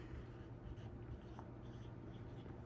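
Pen or pencil writing out a word by hand on paper, a faint, steady scratching under a quiet room hiss.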